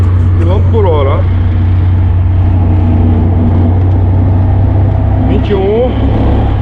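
A Komatsu GD555 motor grader drives in sixth gear on an unpaved road, its engine droning loud and steady with a deep rumble throughout, while someone talks over it.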